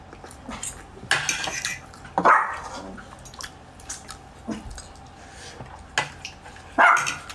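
A dog gives a few sharp, scattered barks and yelps, loud and close, mixed with clinking of dishes and cutlery in a quiet indoor setting, with gaps of near silence between bursts.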